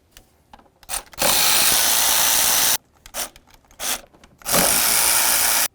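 A power tool runs in two sustained bursts, spinning out the four 8mm bolts holding the throttle body to the intake of a 2007-12 Nissan Sentra, with short clicks and handling noises between bursts.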